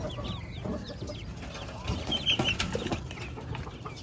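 Chickens and young chicks cluck steadily around a farmyard where ducks and chickens are kept and fed, a busy, moderately close flock with soft overlapping calls and no talking.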